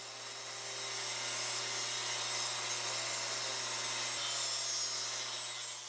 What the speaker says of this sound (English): I set the fence on my table saw to 3 inches wide to cut the back piece